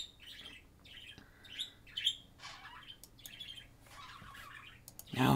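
A small bird chirps and squawks in a run of short, bright calls at moderate distance, with a brief louder noise at the end.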